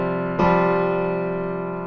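A single sus4 chord is strummed once and left to ring, sustaining steadily while it slowly fades, with no voices over it.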